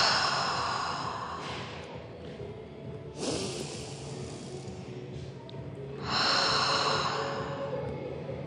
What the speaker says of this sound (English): Just start by taking a few grounding breaths in through the nose and out through the mouth.